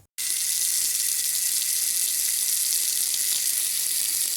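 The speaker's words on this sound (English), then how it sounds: "so I wash off the pumpkin" Running tap water pours steadily over a pumpkin being washed outdoors in the Jamaican countryside, a continuous close, bright splashing hiss with no talk.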